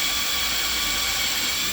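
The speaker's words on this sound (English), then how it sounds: "I'm going to drill a hole for it, about a 1/4 inch from the edge." Power drill whirring steadily close by, boring a hole about a quarter inch from the edge of a wooden zero-clearance insert for a Hitachi Metabo C10RJS table saw, a brief constant high whine.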